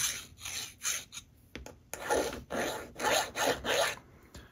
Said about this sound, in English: using a sort of a rolling motion with the file. This is helping to keep the side of it round while filing off that seam